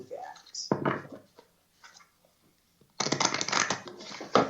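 Tarot cards being shuffled by hand, a short riffle near the start, then a loud, dense stretch of rapid card flutter and slapping in the second half, with a voice speaking between.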